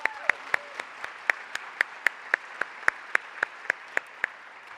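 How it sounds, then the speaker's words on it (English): At an evening university community event, a small audience applauds a host and her team, a soft, even patter of clapping with a few louder, regularly spaced claps standing out close by. "So can I ask all of you to join me in giving Christina and her team a round of applause?"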